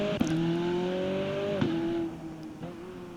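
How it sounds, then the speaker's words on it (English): A race car at the Magny-Cours season finale revs hard while doing celebratory donuts after the finish, its engine holding a steady high drone that drops in pitch twice before easing off, with a faint tire squeal. "He's gonna rev that thing up. Doing donuts here."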